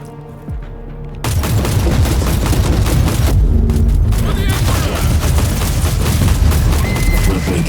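A webway gate explodes in a Warhammer game, a loud sudden boom that rolls into sustained rumbling blasts and crackling debris, with in-game voices over the din.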